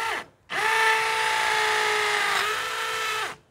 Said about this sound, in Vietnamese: Mình đang chạy chế độ khoan búa.